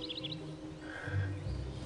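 A chocolate frog in the Harry Potter and the Prisoner of Azkaban video game gives a few quick, chirpy croaks over soft low game ambience, with no talking.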